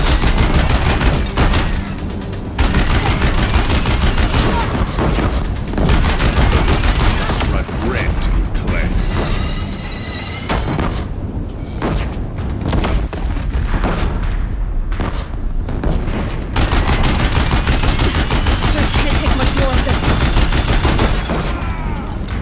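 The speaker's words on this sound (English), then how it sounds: "If the Deathbringers keep firing, this bridge will go!" Deathbringer machines in Horizon Zero Dawn firing guns in loud, continuous bursts of heavy gunfire and booms, dense and close for the whole stretch, with battle voices shouting over the barrage.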